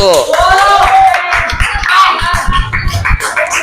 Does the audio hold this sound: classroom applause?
yes